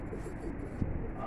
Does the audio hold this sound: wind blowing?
no